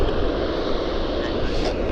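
A plane taxis at Vancouver airport, a steady broadband engine roar that holds loud and even throughout, with no pauses.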